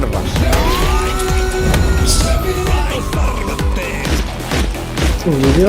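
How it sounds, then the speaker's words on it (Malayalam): A police siren wails through a dense Malayalam action movie trailer, Aadu 3, rising and sweeping under loud music, effects and voices throughout. "സൈറൺ"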